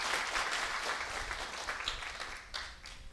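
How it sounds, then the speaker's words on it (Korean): A church congregation claps during a Korean worship service, a dense, steady wash of many hands applauding at moderate loudness, without speech over it. "박수를 우리 하나님 앞에 세게 한번 쳐봐요."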